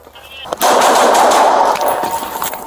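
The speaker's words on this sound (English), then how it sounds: "rapid gunfire cracks through a quiet Los Angeles neighborhood" A loud, dense burst of rapid automatic gunfire, shots running together for about two seconds before tapering off.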